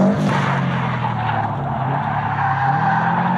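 A budget Subaru STi on cheap Amazon tires drifts under handbrake, its tires skidding in a loud sustained squeal over the strained engine roar, close and continuous throughout.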